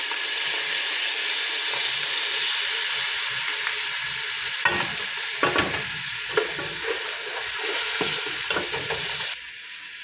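Bihon noodles stir-fried in a pan after soy sauce goes in, with a steady loud sizzle throughout and irregular scraping, clattering stirring strokes breaking through the hiss.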